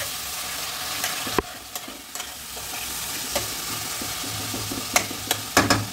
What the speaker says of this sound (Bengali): এবার এটাকেও আমি তেলের সঙ্গে ভালোভাবে কষবো।